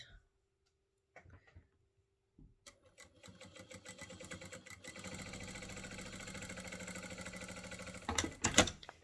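A sewing machine runs a blind binding stitch, starting after a few quiet clicks and building into a steady, fast mechanical chatter that grows louder toward the end, heard up close with no talking.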